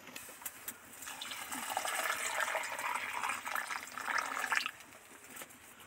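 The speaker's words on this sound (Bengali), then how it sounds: "এবার এই জলটা নিয়ে ডালের মধ্যে ঢেলে দেব" Near-boiling water poured from a wok into a pot of split black gram (biulir) dal, a steady splashing pour that swells for about four seconds and then stops, heard close with no talking.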